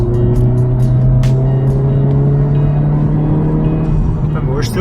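A 2022 Honda Civic Si engine drones steadily after a downshift into third gear on a winding road, a constant close hum with road rumble throughout, rising slightly near the end.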